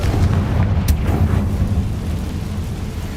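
Confringo blasting spell explosion in the Hogwarts Legacy video game, a heavy, rumbling low blast with a sharp crack just under a second in, the boom slowly fading over the following seconds.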